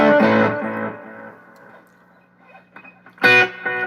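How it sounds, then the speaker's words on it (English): Electric guitar run through stacked reverb and analog delay during a rock live stream: a strummed phrase rings out, its echo trails fade, then a second loud chord strikes near the end. "It's reverb and analog delay stacked onto each other"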